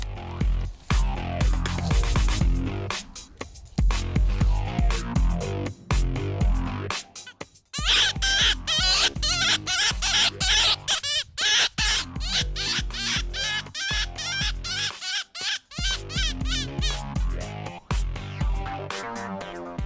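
A hunter's predator call imitates mouse squeaks to lure a fox from reeds at a Lower Silesian calling contest. Shrill squeaking bursts run almost nonstop, close and loud, broken by short pauses.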